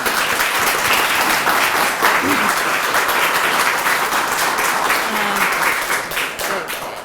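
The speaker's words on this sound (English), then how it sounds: "Please join me in a round of applause." Sustained applause from a lecture audience at a bell tower preservation speaker series, dense and steady for several seconds before tapering slightly at the end, with a few faint voices underneath.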